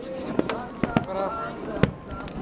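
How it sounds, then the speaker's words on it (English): Fireworks burst at Brighton Beach with a few scattered, moderately distant pops and thuds spread across a couple of seconds, heard beneath people chatting. "And if you see right over there, we've got fireworks."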